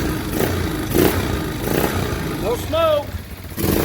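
The rebuilt engine of a 2003 Kawasaki Prairie 360 ATV runs steadily with the choke on after a restart, still warming up. Someone talks over the close, continuous engine rumble.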